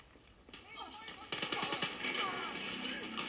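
Rapid automatic gunfire in the shooter game Wolfenstein: Youngblood, bursts of machine-gun shots that grow louder partway through, with a player's voice talking faintly underneath.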